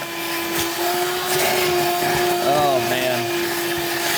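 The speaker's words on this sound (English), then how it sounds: "We'll keep going with the vacuum so we can check out this valley." A vacuum cleaner runs loud and steady, close up, as it cleans out the valley of a DeLorean engine block, its pitch wavering briefly as debris is sucked up, with a short spoken remark over it.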